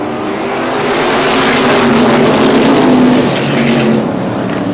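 Race cars roar around the oval at Star Speedway in New Hampshire, a loud, sustained engine drone that swells as the pack passes close by and then eases slightly.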